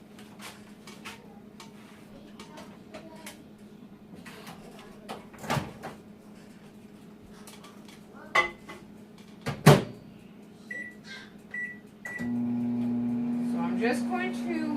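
A microwave oven hums as it heats a protein brownie mix, a steady drone with a beep starting near the end, after cupboard clicks, clatter and kitchen handling sounds.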